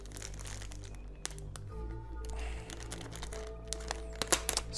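Plastic packaging of a DXF Xeno Bardock SSJ3 figure being opened, with soft crinkling and crunching of plastic and a few sharper cracks and snaps near the end, close up and fairly quiet.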